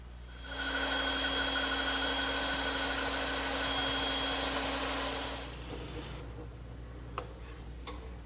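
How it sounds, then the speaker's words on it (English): A bandsaw cutting a traced outline in wood whines steadily for several seconds, then winds down, followed by quiet with a couple of sharp clicks near the end. "I'll just trace the outline and cut it over on my bandsaw."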